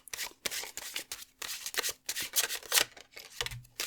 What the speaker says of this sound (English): Let me shuffle my tarot deck.